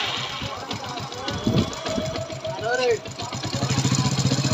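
A Hero Passion Pro i3s motorcycle engine, just fitted with a new timing chain, cranks over and catches, then settles into a fast, even idle close by, with a voice speaking during the start.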